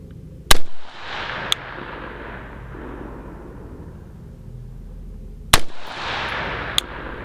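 Two sharp, loud unsuppressed shots from an ACR DMR rifle fired at a 50-yard target, each cracking close by and followed by a long rolling echo, a few seconds apart, with faint metallic clicks between.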